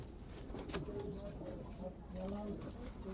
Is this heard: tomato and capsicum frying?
no